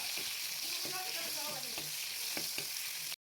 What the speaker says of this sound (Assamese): এতিয়া এই পিঁয়াজখিনি অকণমান কোমল হৈ যোৱালৈকে ধুনীয়াকৈ ভাজি ল'ম।